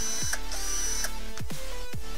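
Cordless screwdriver running while submerged under water, a whirring motor with sharp ratcheting clicks and pitch drops as it starts and stops several times in quick bursts, close and without talk.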